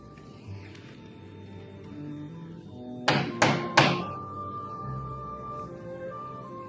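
Three quick, solid knocks on a door in an old television drama, heard over a quiet, humming room tone.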